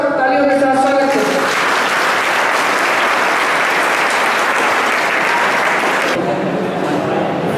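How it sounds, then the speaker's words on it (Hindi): Loud, sustained applause from an audience greeting a director coming on stage at a skill convocation ceremony, the dense clapping continuing steadily for several seconds with no talk over it. "माननीय डायरेक्टर सर मंच पर आए, जिसके लिए आप जोरदार तालियों के साथ स्वागत करें।"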